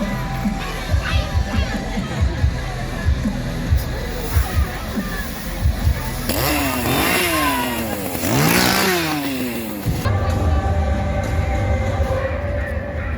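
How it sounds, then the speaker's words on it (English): A chainsaw revs loudly in rising and falling bursts among a noisy crowd at a Six Flags Discovery Kingdom Fright Fest in Vallejo, California, with rhythmic thumping beneath the din. "This guy has a chainsaw."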